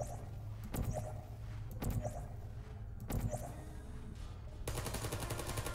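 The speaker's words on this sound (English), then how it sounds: "You want to shoot a portal underneath the cube over there." Portal gun shots in the video game Portal, a few sharp discharges spaced about a second apart over a low game hum, ending in a sustained bright hiss.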